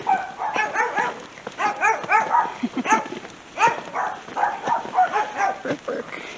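A dog yips and barks in quick, repeated bursts, fairly close and clear, with whimpering tones between the barks and no speech.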